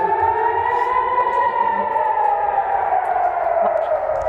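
A civil defense air raid siren in Akko warns of incoming missiles, a loud steady wail whose pitch slowly rises and falls, sounding alone with no voices over it.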